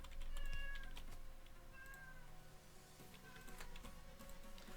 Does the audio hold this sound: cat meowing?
yes